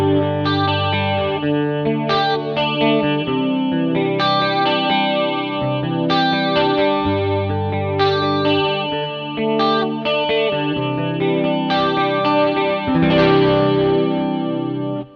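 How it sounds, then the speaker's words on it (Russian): An electric guitar through a JOYO DC-15S combo amp plays chords and melodic lines with a shimmering chorus effect and slight distortion, steady and loud throughout. "Можно, мне кажется, даже чуть раскачать, прибрать тон и добавить хорус."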